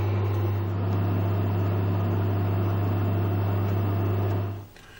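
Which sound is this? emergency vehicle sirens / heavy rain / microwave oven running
microwave oven running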